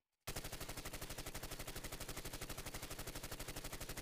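Automatic gunfire in the Call of Duty Mobile video game: a loud, unbroken burst of rapid, evenly spaced shots lasting about four seconds after a brief silence, with no talking.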